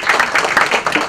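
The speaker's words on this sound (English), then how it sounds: "can we have a huge round of applause for him?" A burst of applause from a crowd at a book launch, rapid overlapping claps in a steady patter, loud and close.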